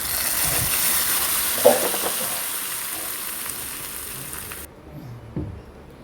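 Hot tempering of fried onion and chilli is poured into a Kerala jackfruit-seed and raw-mango curry, giving a sharp burst of sizzle that settles into a steady hiss and fades near the end.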